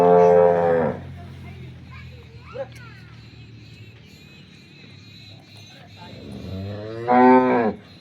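Cattle on a farm moo at milking time: one loud, low moo opens the stretch and another answers near the end, with a quiet barn hush between them.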